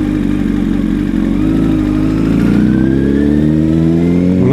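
Motorcycles riding along a road, a loud, close engine drone with steadily rising revs as the bike accelerates, no voices over it.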